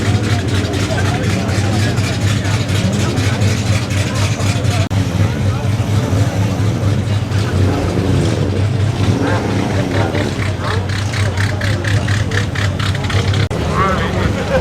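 A supercharged vintage MG engine runs steadily at the Prescott hillclimb, a continuous loud mechanical drone with paddock noise, while someone talks over it.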